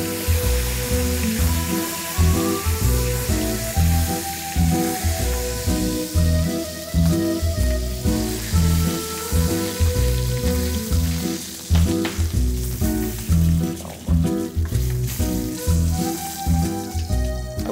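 Pieces of meat fry steadily in a pan with a continuous, loud sizzle and crackle, spattering fat popping throughout with no talk.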